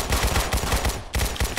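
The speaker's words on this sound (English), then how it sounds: "I'm going to shoot him now." Rapid video game gunfire, a tight burst of about eight close, loud shots, a brief gap, then a few more rounds, with no talk.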